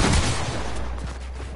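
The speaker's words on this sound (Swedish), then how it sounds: "Det var ett varningsskott." A single warning gunshot in Fortnite cracks out loud and close at the start, then trails into a broad, noisy decay with no other shots following.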